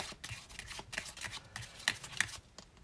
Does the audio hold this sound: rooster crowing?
no